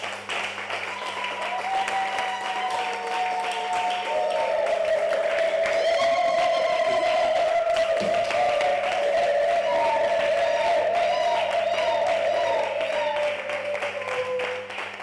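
Church congregation applauding and acclaiming a missionary being invited up, a sustained wash of clapping and cheering voices with a loud sung or shouted tone running over it, steady for the full stretch.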